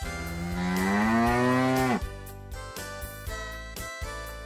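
A cow gives one long, loud, close moo that swells and then breaks off, followed by a few soft clinks and a low background hum.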